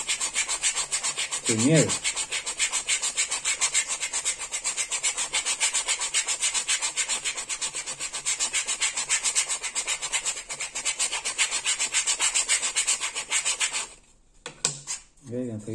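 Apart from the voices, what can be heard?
sanding leather strop with 100-grit sandpaper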